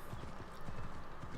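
Horse hooves clip-clop at a quickening gallop in Assassin's Creed Odyssey, a steady rhythmic thudding that runs the whole moment over a continuous game background.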